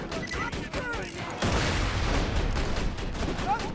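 Rapid automatic turret fire in the video game Borderlands 2 starts abruptly and keeps up as a dense, loud, continuous barrage, with a voice and game sounds heard beneath it.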